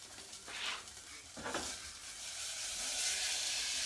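Sausage sizzles in a frying pan while being stirred, soft scraping strokes over a steady hiss of frying.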